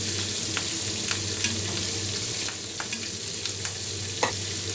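Kashmiri red chilies and garlic sauté in a pan with a steady, close sizzle of hot oil, broken by occasional scraping clicks as the pieces are stirred.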